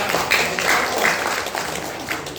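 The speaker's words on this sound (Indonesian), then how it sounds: "Tepuk tangan dulu Pak." An audience claps together in a hall, a steady wash of applause filling the whole stretch at moderate loudness.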